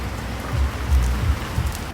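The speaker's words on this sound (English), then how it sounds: "the beautiful state of Florida, where it's always raining. It's raining." Steady rain falling outdoors in Florida, a continuous close patter on surfaces with low rumbling swells and no voices.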